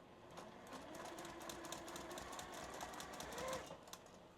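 Sewing machine stitching quilting lines through a Christmas table runner and its batting, a steady close rapid needle patter running continuously throughout.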